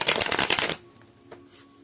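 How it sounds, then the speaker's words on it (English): A deck of tarot cards riffles and shuffles in a rapid papery flutter for under a second, then stops abruptly, leaving only faint room tone with a small tap. "And I'm also being told to do a split before we serve the cards."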